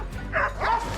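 Hunting dogs bark in a forest during a wild boar hunt, with two short yelping barks close by in quick succession.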